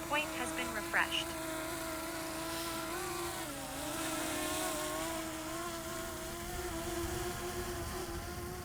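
Potensic Atom 2 drone lifting off and hovering: a few short beeps, then a steady, high, buzzing propeller whine whose pitch dips and rises as it climbs and holds position nearby.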